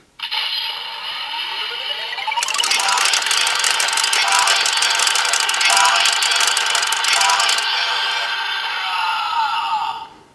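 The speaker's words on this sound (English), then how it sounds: "You also have the Gatling sound" An electronic Gatling gun effect from a DX ZenKaiju Gear toy, a bright continuous rapid rattling burst over a steady synthetic tone, lasting several seconds before cutting off.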